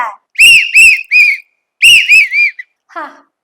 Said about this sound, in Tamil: இப்படி விசில் பறக்குண்டா விசில் பறக்கும்